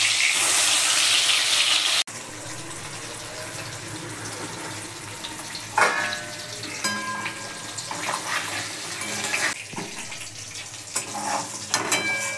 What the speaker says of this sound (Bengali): মাছটা ভেজে নিচ্ছি।